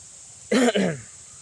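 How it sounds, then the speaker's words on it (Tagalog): One short, hoarse cough in two quick bursts, close and fairly loud, over a steady background hiss of wind in a very cold area. "Parang inuubo na ako mga idol dahil sa sobrang lamig talaga na area dito"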